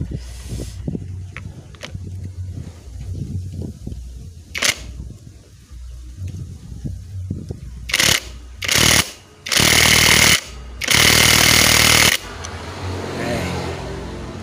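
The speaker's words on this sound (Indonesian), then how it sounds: "Kemudian kita kencangkan untuk mur koplingnya. Kita gunakan kunci 19 sok." A 19 mm socket wrench tightens the clutch nut on a Yamaha Jupiter MX motorcycle, giving several loud, close, rapid ratcheting bursts that grow longer toward the end, after quieter clicks and handling noises.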